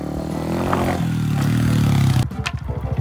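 A motorcycle engine revs at a steady drone for a long jump attempt, then cuts to a choppier, pulsing idle near the end, close and fairly loud with no voices.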